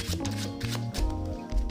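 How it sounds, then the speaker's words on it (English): A deck of playing cards is shuffled close by in rapid riffling bursts with soft slaps, and no one speaks. "while they're shuffling the cards"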